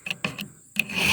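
A hand file rasps across a chainsaw chain during sharpening: three short strokes close together, a pause, then a longer stroke building to a steady scrape, close and fairly quiet.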